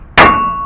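One sharp hammer strike on a 2001-2006 Cadillac Escalade steering knuckle to free the tie rod, a loud close metallic clang followed by a long steady ringing tail.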